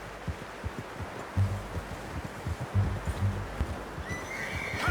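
A horse in Red Dead Redemption 2 lets out whinnies and snorts amid soft clip-clop hoofbeats, fairly quiet and close, with a rising whoosh near the end.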